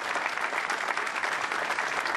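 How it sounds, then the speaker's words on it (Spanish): Outdoor crowd applauding at an environmental event in Chamical, with dense, steady clapping held at a moderate distance for a couple of seconds. "yo le voy a pedir un fuerte aplauso para esta gente de medio ambiente"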